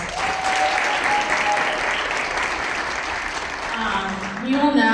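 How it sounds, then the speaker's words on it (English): An audience at a military youth gala in Aviano applauds its participants, a sustained, fairly close wash of clapping that runs the full length and fades slightly at the end. "Let's give all of our participants a huge round of applause."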